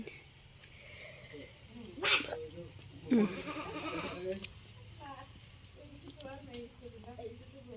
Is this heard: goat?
yes